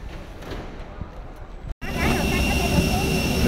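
Airplane at Da Nang airport after a flight, a steady engine roar that cuts out briefly then returns louder and broader, with voices under the noise.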